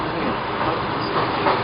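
Suburban electric train running near Gatchina between Baltiysky and Varshavsky stops, a steady loud interior rumble and rattle throughout with no clear voices.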